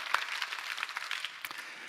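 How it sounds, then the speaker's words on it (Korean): Brief, fairly faint clapping from a church congregation during a Sunday service, scattered claps spread across two seconds. "우리 박수로 한번 서로 격려합시다."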